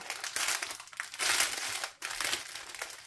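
Plastic sachets of diamond painting beads being opened by hand, a steady run of close crinkling and rustling plastic over about three seconds with brief pauses, no voices.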